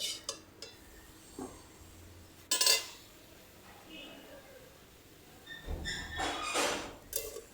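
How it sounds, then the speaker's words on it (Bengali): Cooked pumpkin greens being lifted out of a wok: metal utensil scrapes and clinks come in a few short bursts, including a sharp clatter midway and a longer scraping run near the end. "এবার শাকটা কড়া থেকে নামিয়ে নিচ্ছি।"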